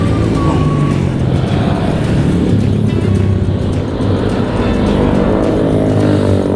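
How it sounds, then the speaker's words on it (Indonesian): Motorcycle engines roar during a Sunday morning group ride, a dense, continuous rumble of several bikes revving nearby with no pauses. "yang geber-geber motor."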